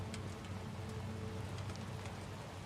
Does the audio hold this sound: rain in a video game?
yes